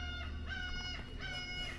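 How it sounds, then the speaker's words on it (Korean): Seagulls call on Hodo Island, a coastal island. Drawn-out squawks repeat in two clear bursts over a steady outdoor background, moderately distant, with no talking. "갈매기 비웃는 것 같아"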